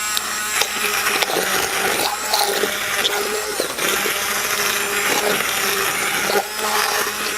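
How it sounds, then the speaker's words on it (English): An immersion blender whirs steadily through steamed tomatoes, a continuous loud, gritty motor drone with small knocks and rattles as the blade hits the pot, running throughout without talk. "now we're going to use our immersion blender"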